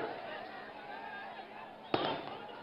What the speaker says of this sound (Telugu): ఎవరో టపాకాయలు బంద్ చేయండి.